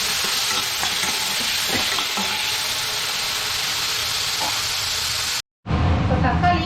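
Chopped tomatoes and onions sauté in a pan for a crab rasam, giving a steady, close sizzling hiss with faint stirring scrapes. The sound cuts out briefly near the end and then resumes.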